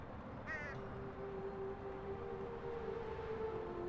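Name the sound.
crow cawing in Elroy & the Aliens video game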